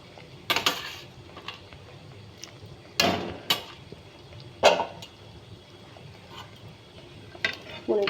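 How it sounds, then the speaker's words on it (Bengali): Paneer pieces dropped into hot spinach gravy for palak paneer, a few separate close thuds and splashy clatters of the pieces and utensil against the pan, spaced seconds apart over a low background. "পনিরগুলো সব ঢেলে দিলাম এর মধ্যে"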